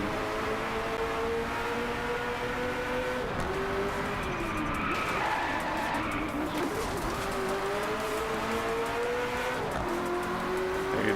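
A race car engine in the Driveclub video game revs and shifts steadily throughout, loud and continuous, with rising and falling pitch as it accelerates and brief tire squeal near the middle.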